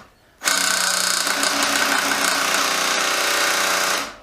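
A RYOBI R18QS Quiet Strike impact driver runs close up in one continuous burst of dense, buzzing hammering after a quiet start, holding steady for about four seconds before stopping.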